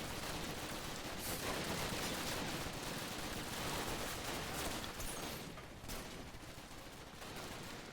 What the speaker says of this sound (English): they were shooting at me